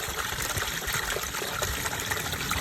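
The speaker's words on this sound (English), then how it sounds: "let's go ahead and do an initial test and drop this in a bucket of water" Submersible garden fountain pump running in a bucket of water, a steady continuous splashing and gurgling rush that holds at an even level throughout, close and without pauses or voices.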